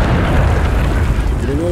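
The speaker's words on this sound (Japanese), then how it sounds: "グレネード。" A grenade goes off in the Vietnam War video game Rising Storm 2, a loud, close, low boom that fills the short moment with heavy rumbling.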